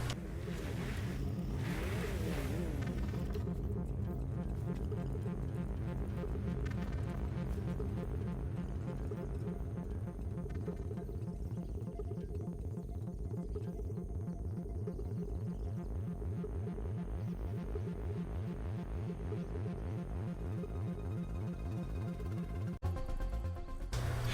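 A low, throbbing motorbike engine drone from the video game GTA Online runs steadily throughout, idling and revving with a rhythmic pulse, continuous and fairly loud with no voices.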